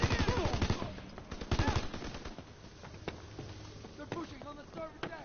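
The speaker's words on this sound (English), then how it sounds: "I get it's a machine gun. It also fires not as fast sometimes." An MG42 machine gun firing in the video game Call of Duty WW2, with rapid bursts of loud gunfire near the start and scattered shots later, mixed with game noise and voices talking.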